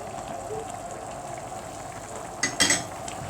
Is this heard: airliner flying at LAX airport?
no